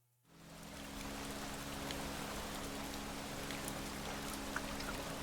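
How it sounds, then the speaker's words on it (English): Rain in the puzzle game World of Goo 2 fades in within the first half second, then stays a steady, dense hiss of falling drops over a low hum, with a few faint individual drip accents. "It's raining."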